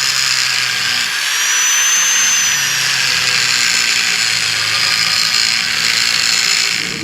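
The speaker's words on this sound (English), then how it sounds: "So let's get these grooves cut in." A power tool cuts grooves into a Damascus steel billet, a loud continuous high grinding whine with slight pitch shifts as the cut progresses, steady and close with no voices.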